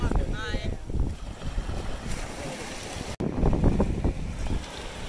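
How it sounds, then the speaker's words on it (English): Ocean waves wash in at a beach near Fort DeSoto and Anna Maria Island in Florida, a rushing surge under gusty wind buffeting the microphone, with a voice speaking near the start and a brief dropout midway. "This whole video is just going to be hearing waves crash."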